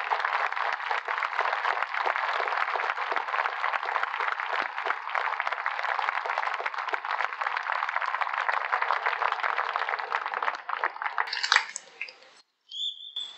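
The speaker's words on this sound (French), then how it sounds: "on peut vous applaudir" Sustained applause from a crowd at an outdoor hospital protest, a dense, even patter of many hands lasting several seconds before tapering off and stopping.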